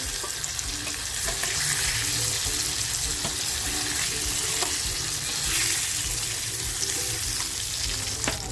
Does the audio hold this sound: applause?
no